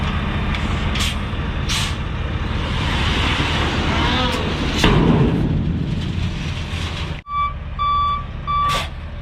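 A gravel truck at a building-pad site arrives with a loud engine rumble and sharp hissing air brake bursts, then falls briefly quiet before a steady series of reversing beeps sounds close by.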